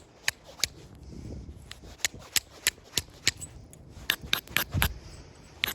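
Sharp, clicky strikes of a chert hammerstone knapping a piece of chert, landing close and irregularly, some single and some in quick clusters, over faint scraping and handling.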